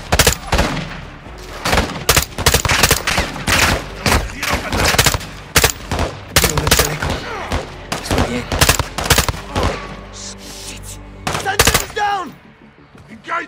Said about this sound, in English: Get your cover and return fire.